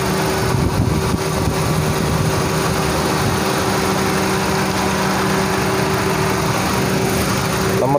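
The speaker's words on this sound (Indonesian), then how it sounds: "ini kondisi saat mesin kita nyalakan ya, dan mikrofon saya dekatkan ke mesin yang kita nyalakan" A 2004 Honda Civic VTi-S with a manual gearbox and D17A5 engine idles steadily, recorded close to the engine, with an even, buzzing hum and no voices.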